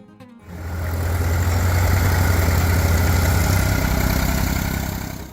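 A Ford 4000 diesel tractor engine idles loudly and steadily, starting after a brief quiet moment and holding a deep, even rumble throughout.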